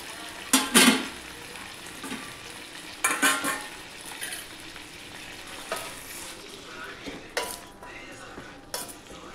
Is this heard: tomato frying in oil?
yes